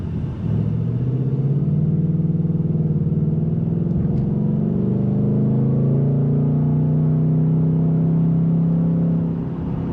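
A 2024 Ford Mustang GT (S650) engine pulls hard under acceleration, its steady low drone rising and dipping through gear shifts, loud and close from inside the car for the full stretch, with no talking.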